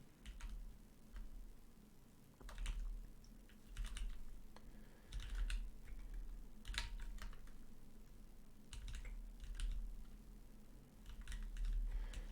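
Soft, irregular clicking of a computer keyboard while words are entered in a Scrabble tournament game, with keystrokes arriving in short bursts and pauses over a low background hum.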